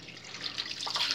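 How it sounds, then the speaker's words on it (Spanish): A little water is poured during beard shaving, a short soft splashing trickle close by that grows slightly louder toward the end. "Vamos a echar un poquito de agüita"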